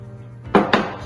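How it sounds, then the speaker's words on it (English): Cornmeal, salt and boiling water being mixed together in a large bowl, heard as two sharp, close utensil scrapes or knocks against the bowl in quick succession over a faint steady hum. "So we're gonna mix that all together"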